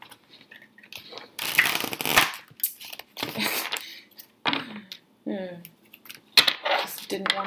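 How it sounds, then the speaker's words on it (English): Thick tarot cards are shuffled by hand in several irregular bursts of riffling and rustling, close and fairly loud, with brief pauses between them. "I'm going to shuffle them some more."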